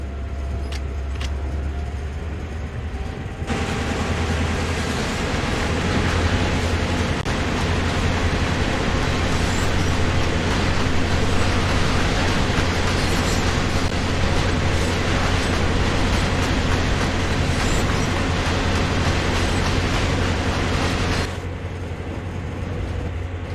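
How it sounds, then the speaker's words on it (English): GP38-2 diesel locomotive under way in the Train Sim World 2020 game, on the Peninsula Corridor between San Francisco and San Jose, with a steady loud engine drone and rumbling wheel noise held throughout. "With the train now moving, it's possible to apply more power"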